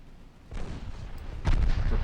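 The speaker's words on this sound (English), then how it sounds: "Torpedo detonation on an enemy unknown cruiser." A torpedo detonates in the naval warfare game Ultimate Admiral Dreadnoughts, a low rumbling boom that swells in after a quiet start and then a second, heavier blast roars on to the end.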